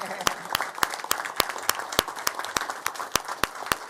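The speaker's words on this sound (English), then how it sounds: "I think that deserves an applause." Audience applause at a police year-end crime presentation: many hands clapping continuously, with sharp, evenly spaced louder claps standing out over the crowd's steady patter.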